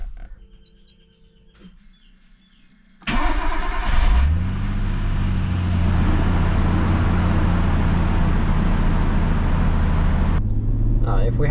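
A Nissan Skyline fitted with an aftermarket turbo inlet and pod filter cranks over after a quiet pause, then settles into a loud, steady idle with a prominent low drone that continues to the end.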